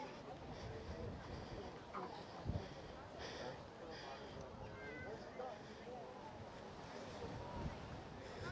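Wind gusts buffet the microphone on an outdoor Copenhagen city walk near the waterfront, a faint, steady rushing roar with occasional louder thumps.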